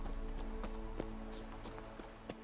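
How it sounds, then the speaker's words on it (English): A horse gallops in The Witcher 3, regular hoof clip-clops at a moderate distance over a low steady game ambience and music. "So let's call our horse."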